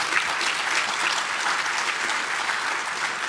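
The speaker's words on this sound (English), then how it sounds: "let's give them a round of applause too" An audience at an awards broadcast gives a steady round of applause for award winners. Dense clapping holds at an even level from start to finish, with no voices over it.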